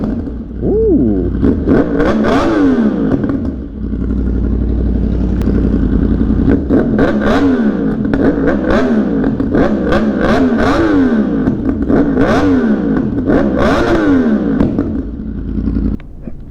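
A Yamaha R1 sport motorcycle revved hard over and over in a loud, close, continuous session, with repeated rising and falling engine sweeps, crackling backfire pops and a steady idle rumble underneath.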